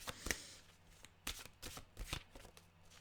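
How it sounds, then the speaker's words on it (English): A deck of mantra cards being shuffled by hand, a quiet series of crisp riffling bursts and soft taps at an uneven rhythm, close by with no talk. "Oh, these mantra cards really wanted a good shuffle."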